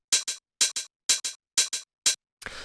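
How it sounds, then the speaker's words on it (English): A punchy, tight hi-hat sample from a classic Detroit house beat ticks in quick pairs of crisp, dry hits, about nine strikes in steady rhythm, alone and up close, ending on a noisier, looser hit. "it's just kind of like this sort of punchy, kind of tight hi-hat sample."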